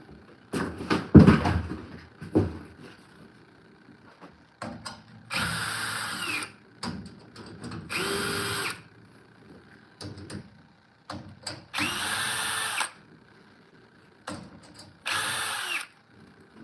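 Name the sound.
power drill driving screws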